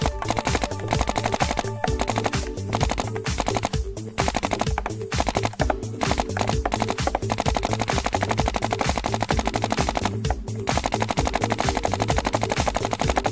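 A Dye DAM paintball marker fires in long rapid bursts, loud and close, with dense mechanical pops in fast succession and only brief pauses between strings of shots.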